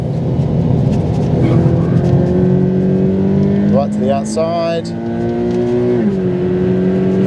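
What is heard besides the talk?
Subaru BRZ car accelerating hard on a race track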